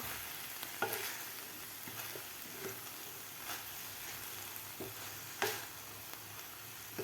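A spice paste with fresh coriander fries and sizzles in a pan while being stirred, steady frying hiss with periodic scraping strokes and light taps of the spoon, close up and without speech.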